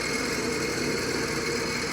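A Clausing 5914 metal lathe runs forward with back gears out and its CVT in slow range, giving a loud, steady mechanical hum and whine with no break.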